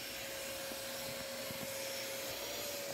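A vacuum cleaner works over the cloth upholstery of a Toyota Camry car seat, giving a steady close whine and rushing airflow with faint scrubbing rubs as the nozzle is drawn across the fabric.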